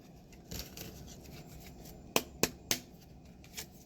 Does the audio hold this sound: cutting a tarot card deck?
yes